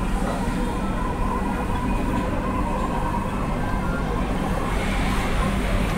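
A Dhaka metro rail train runs steadily, a loud continuous rumble and rolling hum of the carriage that stays even throughout, heard from on board with no talk.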